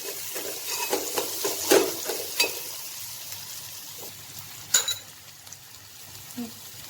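Asafoetida sizzles and crackles in hot oil for a moringa leaf dal, a steady close frying hiss with spoon clinks and stirring scrapes, one louder rattle near the end.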